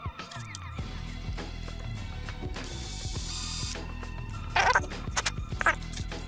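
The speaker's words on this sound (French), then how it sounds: "mettre en position le truc et percer le trou à travers le passage de vis" A tool is pressed through a screw passage while a fan is fitted to a Raspberry Pi. Close, quiet clicking and ratcheting mechanical sounds lead up to a couple of brief scraping bursts near the end.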